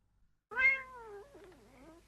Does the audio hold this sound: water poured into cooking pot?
no